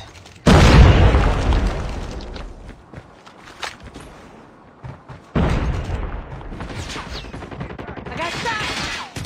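Gunfire in a battle royale video game strikes the player: two loud bursts of shots and impacts, one near the start and another midway, each followed by rattling game sounds.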